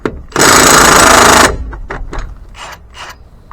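An impact wrench fires in one loud, sustained burst of about a second while removing lug nuts from a Mitsubishi Mirage wheel, followed by scattered metallic clanks and handling noises.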